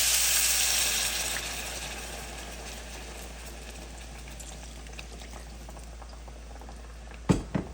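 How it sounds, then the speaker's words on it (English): Water hits a hot Dutch oven where oxtails are searing, setting off a loud hissing sizzle that gradually settles into a quieter bubbling, followed by two sharp clunks at the end. "let's go ahead and add water to our Dutch oven"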